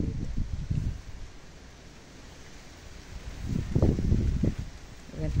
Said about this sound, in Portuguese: Ventando muito.